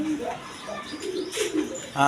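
Pigeons coo at a pigeon farm, several soft, close calls following one another over a low background murmur.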